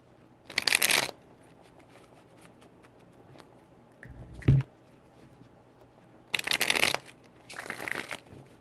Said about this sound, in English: 4 shuffles